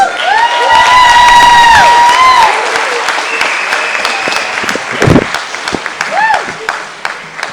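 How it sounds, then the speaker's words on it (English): Loud applause from a festival Q&A audience in Philadelphia's Rittenhouse Square, with scattered cheers and whoops, gradually thinning into lighter clapping. "one last round of applause before we dig into this"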